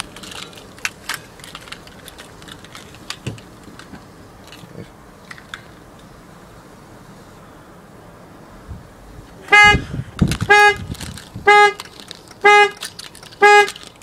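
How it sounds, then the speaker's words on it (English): Car alarm on a 2004 Chevrolet Venture with an aftermarket remote starter: after quiet clicking and rustling, the horn starts honking in loud, regular bursts about once a second, close by. "Alarm went off."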